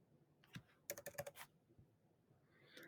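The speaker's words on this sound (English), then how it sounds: "then you are going to type in your zip code" Clicky computer keyboard keys tapped in a short burst of quick strokes, a few isolated presses before and after, close and fairly quiet with no talking.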